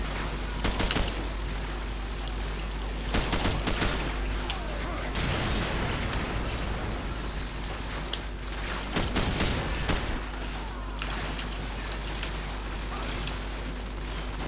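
Rapid bursts of Call of Duty 4: Modern Warfare gunfire and explosions pile up continuously amid dense, loud action noise, with occasional voices mixed in.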